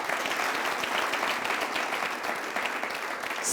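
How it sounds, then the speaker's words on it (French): Steady audience applause from a studio crowd on a French-language television entertainment show, dense and continuous clapping that stays loud and even throughout with no talk over it. "On va l'applaudir bien plus fort."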